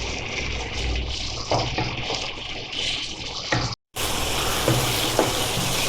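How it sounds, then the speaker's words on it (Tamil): Tomatoes sautéing in a pan for chicken masala give a steady, close sizzle and fry crackle with occasional stirring scrapes, a brief drop to silence partway, then the sizzling resumes. "தக்காளி நல்லா வதங்கட்டும்."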